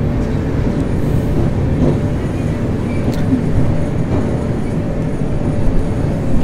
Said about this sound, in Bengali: ট্রেন কিন্তু এখন খড়গপুর স্টেশন দিয়ে যাচ্ছে